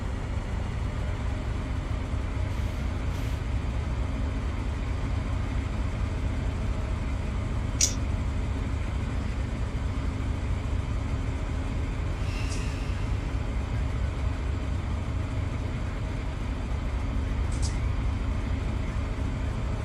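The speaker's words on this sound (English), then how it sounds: "Here it comes, you can hear it powering up." A video game train locomotive's steady low engine rumble builds and holds throughout as it powers up, with a few brief high hisses breaking in at intervals.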